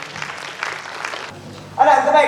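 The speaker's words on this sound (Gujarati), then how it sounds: "જોરદાર તાળી" An audience at a public event in Kalol gives a short burst of clapping, fairly close and moderate, which fades out before a voice takes over in the final second.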